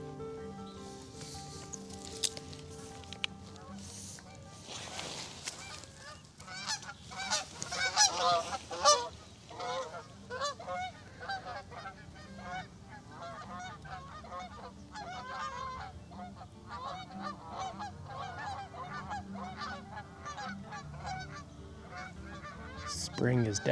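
A Virginia rail calls repeatedly in a long series of rapid grunting, honk-like notes, fairly close and steady over a faint background hum in a springtime marsh.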